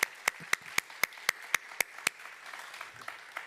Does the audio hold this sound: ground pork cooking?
no